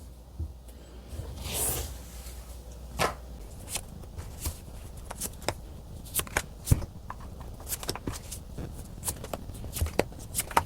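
Tarot cards are shuffled and handled during a reading, giving soft riffles and sharp taps in an irregular rhythm. The sounds are close and quiet, with no one talking.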